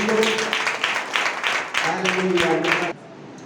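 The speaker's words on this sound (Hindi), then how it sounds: "ताली बजाकर धन्यवाद देने को" A church congregation claps hands together in thanks, a rhythmic run of about ten sharp claps in unison with a voice and tones underneath, ending abruptly after about three seconds.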